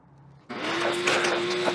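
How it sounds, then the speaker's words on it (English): A vacuum cleaner switches on abruptly and runs loud and close with a steady whine, cleaning up mess during a rod buckle strap installation. "we're gonna grab the vacuum real quick and vacuum up my mess a little bit"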